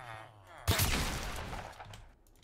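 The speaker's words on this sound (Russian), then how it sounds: "Шотган, который стреляет, ну, вот, быстро." Tactical shotgun in a Fortnite-style Minecraft game: a sudden loud blast, then a dense burst of rapid shots that fades over about two seconds, with no talk.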